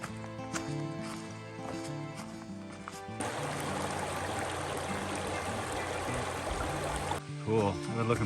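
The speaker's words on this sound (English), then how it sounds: "I've been looking forward to this particular waterfall all day." Steady broadband rush of a waterfall in a muddy northern Alabama–Georgia woodland, starting quieter and swelling to a full continuous roar, with brief talk near the start and end.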